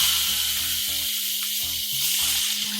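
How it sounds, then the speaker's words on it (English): Chicken fajita strips sizzle loudly in a hot cast iron pan with fat, a bright constant hiss over a background of intermittent low musical notes. "I'm going to drop them in here and you'll hear a nice loud sizzle"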